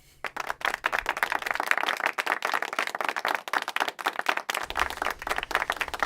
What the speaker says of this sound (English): please give a very warm round of applause to tonight's guest, the poet Dr. Murdoch Cabelay.